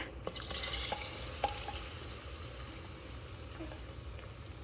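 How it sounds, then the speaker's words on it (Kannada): Tempering and rice are stirred into drumstick sambar in an Instant Pot, a soft steady bubbling hiss with light scraping and a few small clinks of a spoon against the pot. "ಒಗ್ಗರಣೆ ಅನ್ನ"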